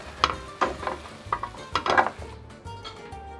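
Tuna and tomato pasta with capers and shrivelled tomatoes being stirred in a sizzling pan: several scraping, clinking strokes of a utensil against the pan over a low background sizzle, close and moderately loud.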